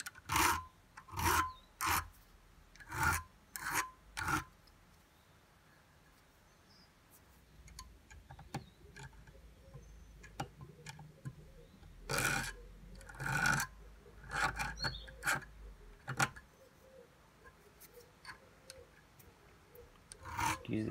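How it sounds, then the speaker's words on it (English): Small jeweler's file rasps against the edge of a vintage Colnago Super bicycle part to remove a burr, in quick bursts of short strokes separated by pauses, with faint talking. "And then just work these edges here Just to get that burr off of it."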